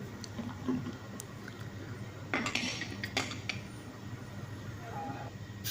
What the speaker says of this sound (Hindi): ढकना बंद कर देंगे इसको, ऊपर सीटी रख देंगे।